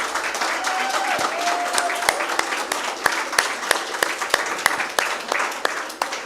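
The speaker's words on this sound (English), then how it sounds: "Big round of applause for Mahnaz Malik." An audience claps for a speaker at the Karachi Literature Festival. Loud, dense applause with sharp individual claps carries on for several seconds, and a voice can be heard over it.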